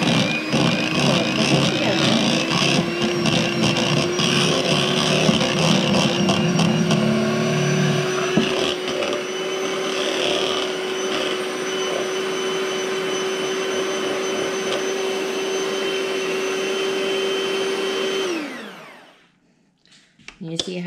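Electric mixer whirring on low speed through cake batter, a steady close motor hum with a constant whine that runs unbroken for most of the stretch before switching off near the end.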